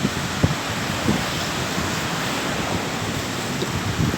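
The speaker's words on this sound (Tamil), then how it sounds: "கண்ணு கட்டின தூரம் மட்டும் கடல் தான்." Sea waves at Wellawatte beach in Colombo, near the railway line, wash in as a steady broadband roar with wind buffeting the microphone and a few soft low thumps.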